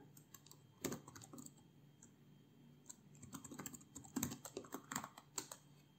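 Keys clatter on a computer keyboard as a new password is typed, with irregular bursts of quick clicks and short pauses between them, close and fairly quiet with no talking.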